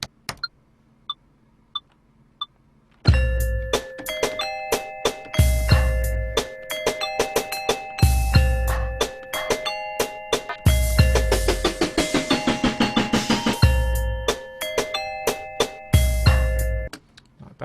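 Layered bell tones ring through a hip hop beat built in beatmaking software, with a few sparse bell hits alone before a loud, steady pattern of bells, drums and bass kicks in and loops with short gaps.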